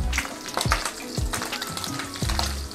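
An egg frying in a hot pan for a sandwich, a close steady sizzle with a few soft clinks and spatula scrapes, no talking.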